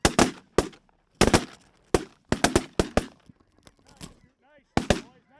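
Loud, close shotgun blasts ring out during a snow goose hunt, fired in quick ragged volleys of several shots each, with honking geese and brief shouts between the bursts.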